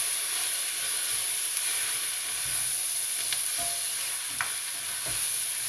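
Flour-dusted chunks of beef for a Bocuse-style bourguignon sizzle steadily in a hot pan while being stirred, with a constant close frying hiss and a few soft scraping clicks, no voices.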